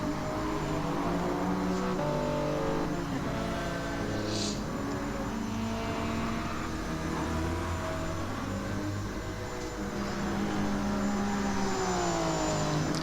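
Race car engine in a racing video game at the Nürburgring, a constant droning engine note that rises and falls in pitch as it revs through gears, loud and steady, no talk.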